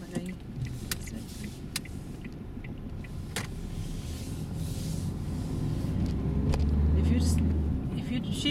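A car drives past a crossroads during a driving lesson, its engine rumble swelling steadily over several seconds and peaking near the end, while people talk in a car over the low road noise.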